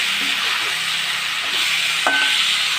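Steady sizzling and frying hiss with soft scraping as eggplant is stirred in a hot pan, plus a brief clink near the end.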